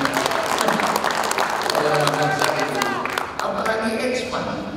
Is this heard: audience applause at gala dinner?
yes